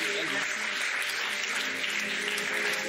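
Studio audience on a French television dating show applauding steadily, a dense, loud wash of clapping filling the room with faint voices underneath.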